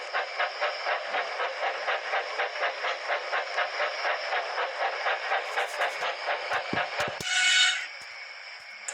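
A steam locomotive puffs in a steady, even rhythm of chuffs, ending with a brief sharp hiss of steam.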